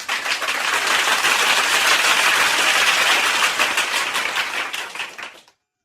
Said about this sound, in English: Give Ja'Marr Chase a round of applause